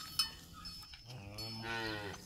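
Cow on a hillside ranch beside her calf at the water, giving a drawn-out low moo that rises in pitch, close and clear, after a brief knock.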